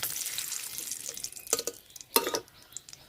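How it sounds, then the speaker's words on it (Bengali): Whole spices (bay leaf, cardamom, cinnamon, cloves and black pepper) are dropped into hot oil left from frying katla fish for fish dum biryani. A steady sizzle runs throughout, broken by two sharper, louder crackling bursts, with no talking. "মাছ ভাজার তেলেই ফোড়ন দিয়ে দিব।"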